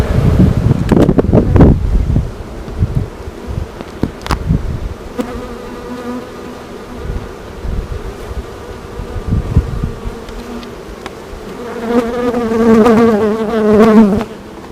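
Honey bees hum and drone around a beehive entrance on a farm, a close, steady buzzing swarm sound with gusts of wind rumbling across the microphone and a louder swell of buzzing near the end.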